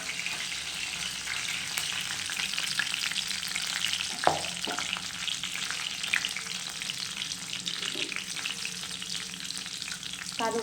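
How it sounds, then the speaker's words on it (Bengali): Green chilies, black cumin seeds and bay leaves fry in hot oil, a steady dense sizzle running throughout with a few sharp crackles and spatters, close and alone with no voices. "এবার আমি ফোড়নে দেবো কাঁচা লঙ্কা, কালো জিরে আর তেজপাতা।"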